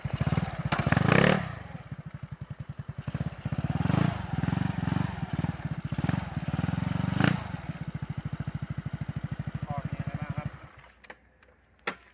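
A Yamaha Mio scooter's engine and exhaust rev up and down close by in a steady throbbing idle with sharper blips of throttle, then cut off near the end.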